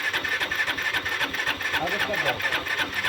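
An engine runs under light throttle during a fuel injector check on an engine with a fault, giving a rapid, pulsing mechanical chatter at close range, with voices talking over it.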